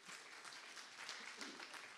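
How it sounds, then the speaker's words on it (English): Congregation applauding during a Sunday church service at Southall Church of God, a steady wash of hand claps heard faintly and at a distance, with no pauses and no voices on top. "Have a wonderful applause for yourself and for God."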